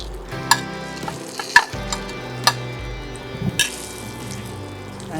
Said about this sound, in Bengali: এরপর এর মধ্যে দিয়ে দেবো ওই আলু এবং মুলো ভাজাটা।